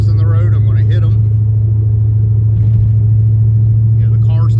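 A Ford Mustang SN95 with a newly replaced steering rack rolls over a bumpy, patched road, its engine a steady heavy rumble inside the cabin with a couple of soft thumps as the tyres hit the patches.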